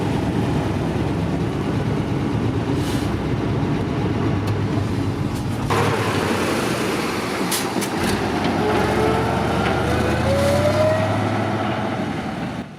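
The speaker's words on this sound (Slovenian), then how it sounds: "v primerjavi z novimi tovornjaki je vožnja precej manj udobna, ob dosti večjem hrupu v kabini" Cab interior of an old TAM 260 T 26 truck on the road: a loud, continuous engine and drivetrain drone with rumble, a rising whine as it accelerates near the end.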